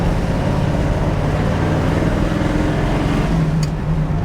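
A 455 cubic-inch Pontiac Trans Am with a 4-speed manual rolls through a roundabout, its V8 a loud, steady low rumble throughout with no talking.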